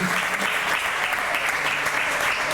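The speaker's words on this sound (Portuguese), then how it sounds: "Dê uma salva de palmas bem forte para Jesus." In a Brazilian church, the congregation gives a strong round of applause for Jesus, a thick, even roar of clapping hands filling the whole stretch, with faint voices beneath.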